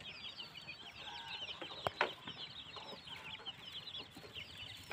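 Several chickens of a Hmong hill-tribe flock cluck and chatter softly at dusk, a busy flock heard at a moderate distance with a few sharper squawks in between.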